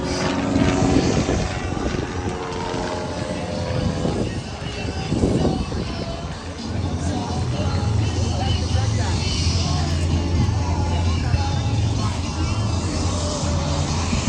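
A heavily modified 1939-built T-Class aerobatic propeller airplane drones steadily overhead at the Westmoreland airshow at Arnold Palmer Airport, its engine note rising and shifting as it climbs into vertical manoeuvres.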